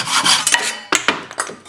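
A saw cutting through the end of a wooden dowel clamped in a vise, close, rasping strokes in quick bursts, with brief pauses between them.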